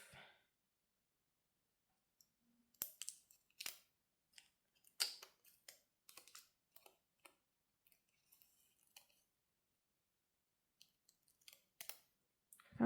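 Scissors cut paper in a quiet room, making sparse, close, crisp snips and clicks in short irregular bursts.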